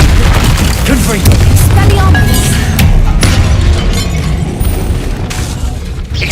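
The Confringo blasting spell in Hogwarts Legacy makes a loud, dense boom and crash, with heavy rumbling explosions and debris-like bursts filling the whole stretch.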